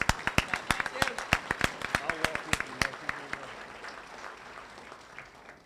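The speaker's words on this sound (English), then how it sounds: "One more round of applause for Matthew Wilson." Applause at an athletic banquet, a few distinct nearby hand claps in a quick rhythm over a softer crowd clapping, tapering off by three seconds into quiet room murmur and a voice.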